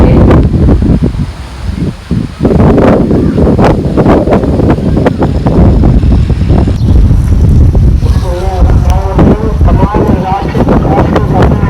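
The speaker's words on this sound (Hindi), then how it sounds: "इतनी तेज़ हवा है।" Strong gusty wind buffets the microphone in a village, roaring and rumbling in uneven bursts while a voice speaks over part of it.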